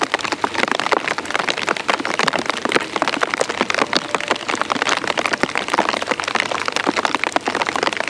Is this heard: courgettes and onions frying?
no